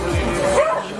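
A dog gives a short, close yip or bark at a stray-animal welfare birthday gathering, mixed with a voice and room noise.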